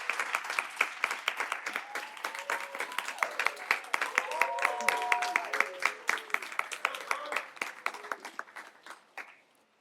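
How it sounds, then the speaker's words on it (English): Audience at a closing keynote of a food law student leadership summit claps in a burst of many distinct hand claps that swells and then thins out, with a few voices murmuring underneath before it fades. "let's give them a big round of applause"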